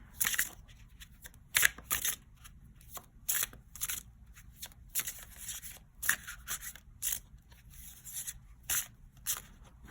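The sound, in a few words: shuffling a deck of tarot cards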